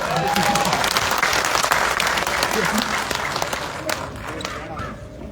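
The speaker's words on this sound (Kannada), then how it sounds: "ಚಪ್ಪಾಳೆ ಕಡಿಮೆ ಹೊಡೆದ್ರೆ ಹೆಂಗ ಅನುಮೋದನೆ ಕೊಡೋಕ್ಕಾಗತ್ತೆ?" An audience at a staff association meeting claps in a dense burst of applause that gradually thins and fades out over a few seconds, with some voices mixed in.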